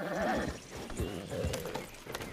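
A horse in a video game whinnies and its hooves clip-clop, the neigh rising and falling over a steady patter of hoofbeats, fairly faint and with no talking.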